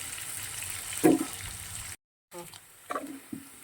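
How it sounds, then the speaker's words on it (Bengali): Small cut potatoes, salted, fry in a pan over a spice tempering with gourd, giving a steady soft sizzle with a couple of brief clatters and a short gap of silence midway. "আলুগুলো একটু ভাজা হবে।"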